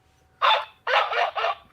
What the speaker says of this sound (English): Oh, you didn't know that guinea pigs could bark too, huh?